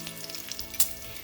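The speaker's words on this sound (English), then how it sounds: "I am now frying some bacon." Bacon fries in a griddle pan with a brief, close crackling sizzle and one sharp pop.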